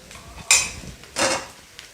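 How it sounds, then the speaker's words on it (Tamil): Potatoes being stirred in a pan for vada pav, with two sharp metallic scrapes of a spoon against the pan and faint clinks in between, close and fairly quiet. "நல்லா மிக்ஸ் பண்ணி விட்டுருங்க."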